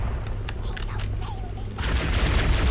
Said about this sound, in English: Oh, you have a fuel rod cannon.